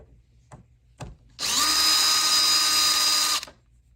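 A power drill spins out screws from a keypad door handle in one steady, loud two-second run after a couple of faint taps, then stops.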